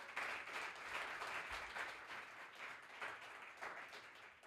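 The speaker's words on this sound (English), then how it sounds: "Round of applause for our beautiful guest." A room gives a round of applause for a guest speaker at a systems thinking masterclass: steady, dense clapping from a sizable audience, sustained at moderate level throughout.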